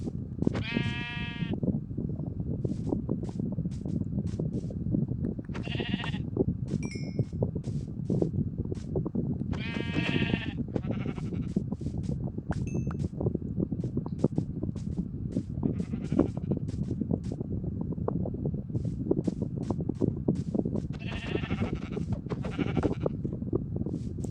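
Several sheep in a blocky Minecraft-style survival game bleat in short separate calls spread through the scene, over a steady low windy game ambience.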